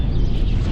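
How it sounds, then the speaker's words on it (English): A deep, rumbling explosion from the video game L.A. Noire, a dense low roar that holds steady through the moment, loud and close, with no speech. "explosion."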